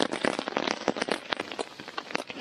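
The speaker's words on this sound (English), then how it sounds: "The rain's slowing off a bit now." Steady rain pattering on a tarp at a wilderness canoe campsite, a dense, close patter of drops with irregular sharper taps, no voices.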